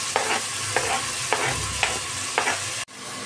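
Chopped tomatoes tipped into golden-brown onions frying in oil in a pot for chicken biryani, giving a continuous sizzle broken by four rhythmic scraping stirs of a spoon, then a sharp pause near the end.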